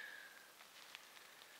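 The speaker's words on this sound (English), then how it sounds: "Raining, it's raining right now." Light rain patters softly on a camp tarp at a dispersed campsite, a faint, steady scattering of drops with a few distinct taps.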